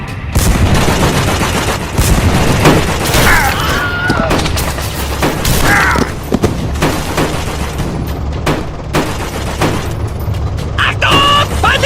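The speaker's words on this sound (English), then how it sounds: "По последнему, бронебойным!" Tank cannons fire armor-piercing shells in a World War II–style video game, with repeated loud booming shots and machine-gun bursts over continuous rumbling battle noise, and voices shout orders throughout.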